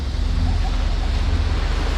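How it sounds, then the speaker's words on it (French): Wind and waves of about 2.5 m buffet a sailboat at sea, producing a heavy low rumble of wind across the microphone, with water surging beneath in a dense, continuous, close wash. "il faut se mettre face au vent, donc face aux vagues"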